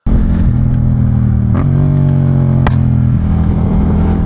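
A Yamaha MT-07 stunt motorcycle fitted with an Akrapovic exhaust revs hard up close, its loud engine note climbing and dropping through several throttle blips with a steady rumbling idle underneath.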